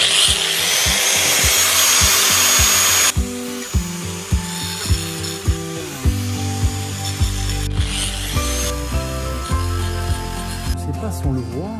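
Drill boring a hole through ceramic wall tile, with a steady whine and grinding under repeated sharp ticks, close and loud, while a person talks.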